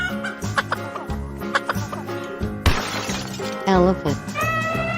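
A chicken clucks in short, fairly loud bursts, mixed with excited voices and laughter close by.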